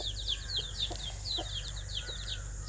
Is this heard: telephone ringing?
no